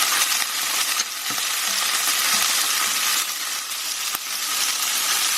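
Prawns sizzling in a hot stir-fry pan right after being flipped, a loud continuous crackle with a few clicks and scrapes from the utensils and no voices.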